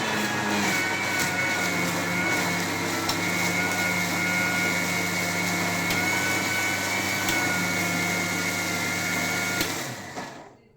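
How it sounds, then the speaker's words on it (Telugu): A kitchen mixer grinder blends grated raw mango with garlic and ginger, its motor whirring as a loud, steady drone for about ten seconds before cutting off abruptly. "లాక్ పడకపోతే మిక్సీ ఆన్ అవ్వదు"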